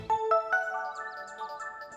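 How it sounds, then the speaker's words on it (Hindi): A mobile phone rings with an incoming call, playing a short electronic melody of bright, sustained tones that step upward, fairly quiet and heard alone without speech. "संतो नाटक वाले का फोन है"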